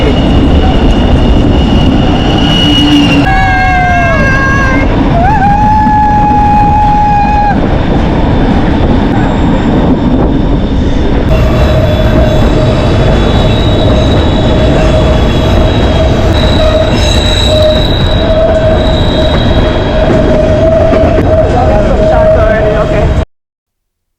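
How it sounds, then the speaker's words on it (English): Loud, continuous rumble of train wheels on rails of the White Pass Railroad in Skagway, Alaska, with squealing metal tones rising and fading as the carriage rolls along. "Doesn't that sound remind you of the New York subway rail?"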